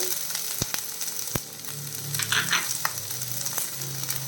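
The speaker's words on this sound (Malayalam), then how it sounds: "ഞാൻ ഒരു സവാള കട്ട് ചെയ്ത് വെച്ചിട്ടുണ്ട് അതും കൂടെ ചേർക്കുന്നേ അതും കൂടെ ചേർത്ത് വഴക്കണം മീഡിയം ഫ്ലെയിമിൽ വെച്ചോളൂ" Chopped onion sautéing in a pan over a medium flame, a steady close sizzle and frying hiss with a few sharp clicks of a utensil against the pan.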